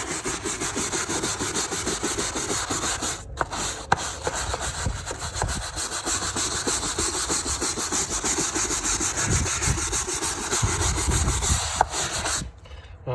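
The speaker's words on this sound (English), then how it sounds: "Well, that was a lot of scrubbing." Door threshold scrubbed with Bar Keepers Friend liquid, a continuous rough rhythmic rasping of brisk back-and-forth strokes, close and steady with two short pauses.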